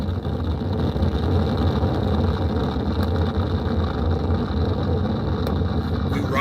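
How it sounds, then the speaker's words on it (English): Artemis 1 launch with RS-25 core-stage engines and solid rocket boosters, a steady, dense, continuous roar filling the low and mid range, loud and sustained without pause. "Boosters in ignition. And liftoff of Artemis 1."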